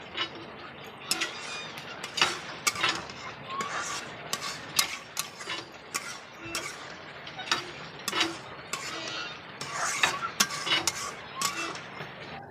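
Drumstick greens being stirred in a pot, with a steady run of close clinks and scrapes from a utensil against the metal, repeating in an irregular rhythm over a low cooking hiss.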